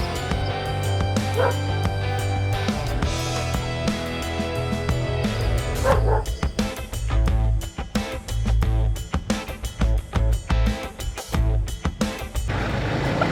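Dogs bark and yip repeatedly at a rainy overnight moto camping site in Malico, loud and fairly close, the calls dense in the second half over a steady background.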